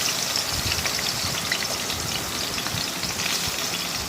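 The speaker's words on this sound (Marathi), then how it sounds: "तर आता तेल तापलेले त्यामध्ये आपल्याला वाटण घालायचे पेस्ट केलेली होती ती आलं लसूण आणि मिरची" A paste of ginger, garlic and green chili spits in hot oil, making a dense, even crackling sizzle like heavy rain that stays close and steady throughout.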